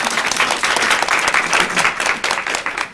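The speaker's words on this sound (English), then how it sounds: "So we have to give a round of applause to DOJ." Loud, dense audience applause fills a law school case round event honoring a Department of Justice honors program participant, steady and sustained throughout without speech.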